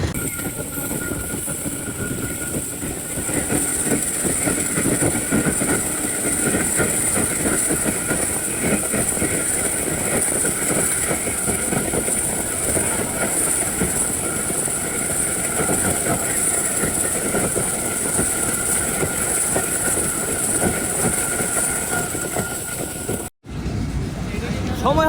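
Steady rumbling clatter inside the Ovijatri Commuter train while it runs toward Bhanga Junction in Faridpur district, Bangladesh, with continuous wheel noise and a high whine that ends in a sudden cut near the end.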